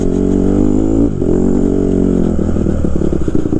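A 2014 Honda CRF 150R dirt bike engine roars loud and close as the rider pulls away, revving hard with a brief dip before climbing again, alongside some rattling clatter.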